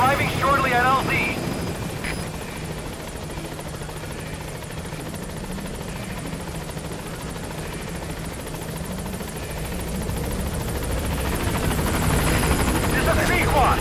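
Pequod helicopter arriving at a landing zone in Metal Gear Solid V: a continuous loud rotor and engine drone that stays present the whole time, swelling slightly toward the end, with radio voices over it.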